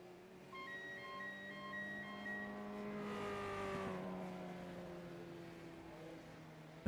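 Race cars at the finish line in the iRacing sim at Motorsport Arena Oschersleben, engines humming steadily and swelling slightly as a car draws near and passes, fairly quiet and without voices.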